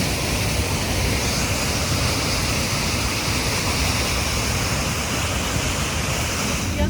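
Glen Ellis Falls pours down in a steady, loud, close roar of rushing water, a dense unbroken wash of broadband noise that lasts the whole time with no voices.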